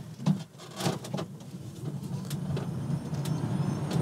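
Electric VW T1 van driving past with a whining, train-like hum that sounds like a commuter train, a steady mid-level drone after a few brief knocks at the start.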